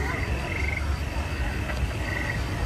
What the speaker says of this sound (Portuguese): Já começou uns barulhos aí de grilo, de sapo. Isso aí são os alto-falantes aí que projetam.